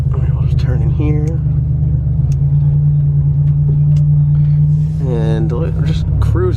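An old car with a low engine rumble cruises steadily, a constant deep drone that holds throughout while people talk over it.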